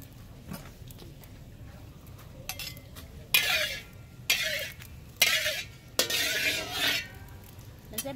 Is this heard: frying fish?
yes